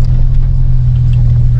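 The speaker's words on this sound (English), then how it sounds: "So I'm driving" Car cruising along a road, a loud, steady low rumble of engine and tire noise filling the cabin, continuous and close without any break.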